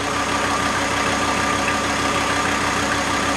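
A VW T4 with the AAB engine idles under load from driving lights and a fan, a steady, loud, even drone with no voices.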